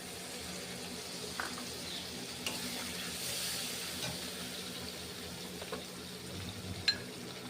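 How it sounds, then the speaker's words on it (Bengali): Spice water poured into a frying pan of curd and pointed gourd (dahi potol) makes a steady, soft sizzle throughout, with a few faint clicks and scrapes, fairly close. "সে মশলার জলটা একটু দিয়ে দিলাম।"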